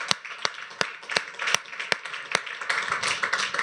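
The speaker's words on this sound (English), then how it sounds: "Let's give him a round of applause" A small audience at a tech conference panel gives sparse applause, with a handful of distinct, fairly loud claps in an uneven rhythm over a soft background of lighter clapping.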